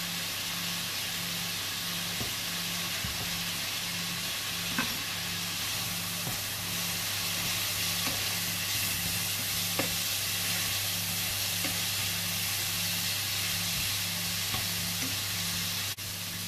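Vegetables, courgettes among them, frying and browning in a pan, giving a steady, even sizzling hiss throughout with faint scattered ticks and pops.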